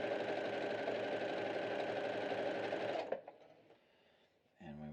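A sewing machine stitching a swimsuit side seam runs steadily and loudly for about three seconds, then stops, leaving quiet room tone before a brief low rumble.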